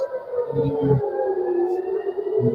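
Air raid sirens wail during a rocket attack, a long sustained rising-and-falling tone from distant civil defense sirens, with brief low rumbles underneath and no talk.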